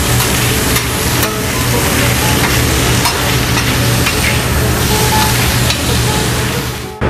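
Mushrooms sautéing in butter in a busy pub kitchen pan, a steady loud sizzle with stirring scrapes running continuously throughout, close up and without talk.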